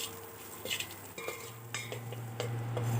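A spoon stirs a lauki and matar sabji in a sizzling pan, making close scraping and clinking strokes in an irregular rhythm over a soft, constant frying hiss.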